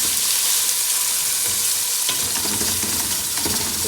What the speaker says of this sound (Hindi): अभी कोफ्ते भी साथ में फ्राई हो रहे हैं